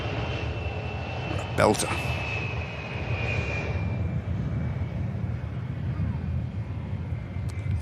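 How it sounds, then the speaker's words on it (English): A jet aircraft touches down on the runway at Manchester Airport, with a steady broad engine roar and a brief tyre screech early on, heard at a distance under a commentator's voice. "That was gorgeous touchdown"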